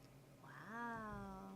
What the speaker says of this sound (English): Don't die, little kitty.